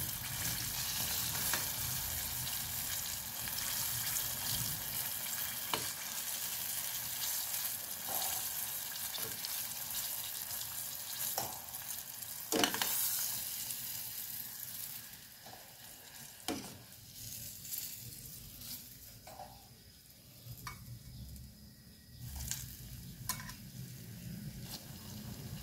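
Chicken necks, marinated in adobo and coated in breading, fry in hot oil with a steady close sizzle and crackle. Scattered sharper pops and spits run throughout, and no one speaks.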